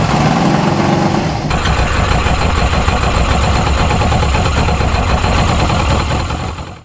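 Close, loud idling of a 1973 Honda CB500 motorcycle engine with out-of-sync carburetors, a continuous rough rumble that shifts character early on and runs unevenly without any talk.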